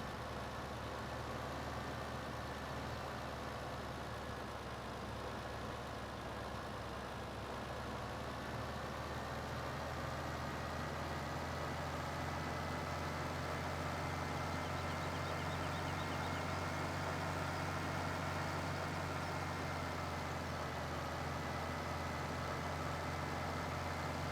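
GMC truck engine in Farming Simulator 17 hauling chaff, a steady low droning rumble that holds evenly throughout with no talk over it.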